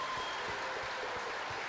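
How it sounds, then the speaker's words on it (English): Applause from a live comedy podcast audience in Raleigh, a brief burst of continuous clapping that stays even throughout and has no voice over it. "So give her a round of applause."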